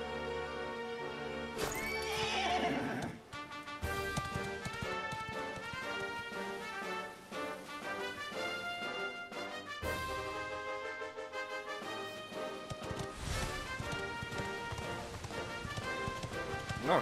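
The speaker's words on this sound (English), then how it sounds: "My horse!" A horse neighs and hooves gallop over a loud, continuous orchestral score in Dragon Quest XI, the animal sounds partly buried in the music.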